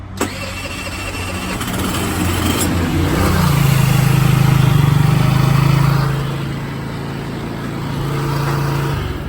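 A Baotian BT49QT-12 scooter's small engine runs at a steady idle, its low droning hum swelling slightly in the middle and staying close and continuous with no talking.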